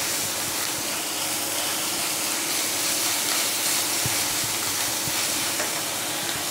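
Ginger-garlic paste frying in a pan for chicken patties, giving a steady, even hiss that runs unbroken throughout with no voices over it.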